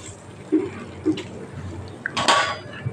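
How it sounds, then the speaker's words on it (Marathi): Boiled, softened soybeans squeezed by hand to press out the water, giving a wet, crackling burst of liquid after a few soft kitchen clinks, close and moderately loud. "आता ते मस्तपैकी तसे पिळून घ्यायचे।"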